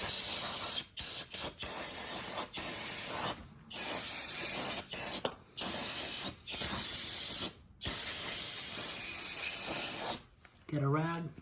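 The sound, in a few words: brake cleaner spray on Honda Grom motorcycle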